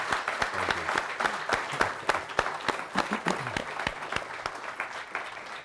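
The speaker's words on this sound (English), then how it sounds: "a warm round of applause for" Warm applause from a university auditorium audience greeting Luvuyo Mandela at a leadership prize event, dense steady clapping filling the room throughout with no break.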